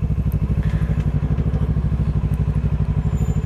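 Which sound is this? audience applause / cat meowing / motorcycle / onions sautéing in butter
motorcycle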